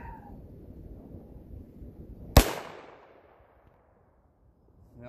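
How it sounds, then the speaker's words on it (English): A single sharp snub nose revolver shot outdoors, loud and close, with a short decaying echo and no other shots following. "You're shooting too high."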